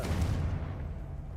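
A Confringo spell blast goes off in a wizard video game as a short, dense, booming burst with a heavy low rumble that fades quickly.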